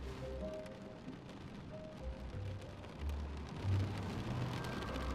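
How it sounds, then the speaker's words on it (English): Steady storm noise with a dense patter like rain or hail striking a surface, low rumbling swells underneath and faint tonal hums, continuous and fairly quiet throughout, in the game The Stanley Parable. "There's a storm outside. Sounds like it's hailing."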